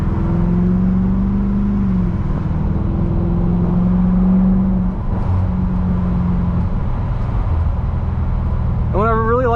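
A 2007 Mercedes-Benz CLK63 AMG Cabriolet with its M156 AMG engine running close by, a steady low droning hum with a brief rising rev near the end, under a constant background wash.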